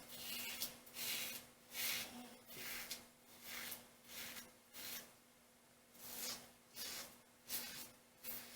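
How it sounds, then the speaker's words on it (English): An Above the Tie S1 slant bar safety razor cuts through heavy stubble in about ten quiet, rhythmic rasping strokes, each a short scratchy pass close to the ear. "You can hear that razor cutting every single hair."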